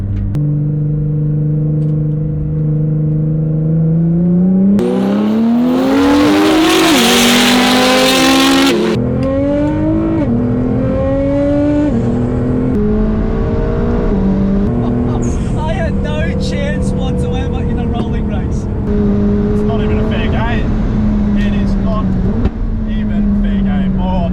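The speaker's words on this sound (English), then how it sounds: "Backfire, I felt that in my back through the seat." A 900 hp McLaren and a 700 awhp Liberty Walk GT-R race side by side from a 40 mph roll, heard from inside a car as a loud engine roars and climbs through gear changes, with a harsh backfire burst mid-run.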